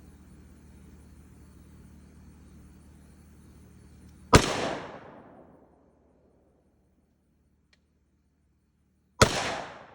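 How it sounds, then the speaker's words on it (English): Two sharp, loud gunshots from an AR-15 rifle fitted with a .22 LR conversion kit, fired outdoors about five seconds apart, each cracking hard and then decaying into quiet. "I'm going to shoot the door once, and then shoot the target once."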